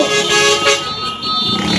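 Loud car horns honk over a busy street at an anti-corruption rally, overlapping blasts that rise and fall for a couple of seconds.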